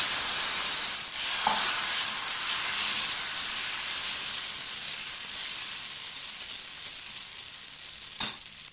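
Vallarai dosa batter poured onto a hot iron griddle gives off a steady, close sizzle and hiss that fades slowly, broken by one sharp tick near the end.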